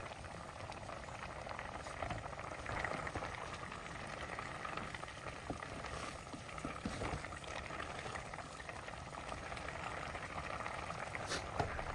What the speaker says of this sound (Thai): จากนั้นก็ต้มทุกอย่างให้สุกเลยนะครับ